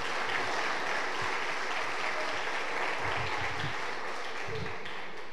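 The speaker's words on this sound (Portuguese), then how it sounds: "ele aplaudiu" Steady, dense applause from a stand-up comedy audience fills the room at constant volume throughout, with scattered low thumps and a faint voice beneath.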